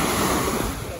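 Waves wash steadily onto a beach on the Sea of Azov at Sedovo, a continuous close, loud surf roar with no pauses.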